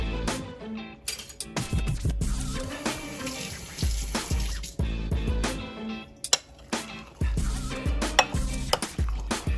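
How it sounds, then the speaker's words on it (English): A fork mixes saltfish fritter batter in a bowl, making repeated clattering scrapes and clinks against the bowl in an uneven, busy rhythm. The sound is close and fairly loud, with no talking. "I wanted to use a fork to mix it so it can mix thoroughly"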